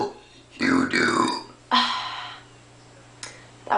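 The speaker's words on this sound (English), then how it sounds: "That was a burp" A person lets out a few loud, close burps in quick succession, separated by short gaps, with a small click-like burp at the end.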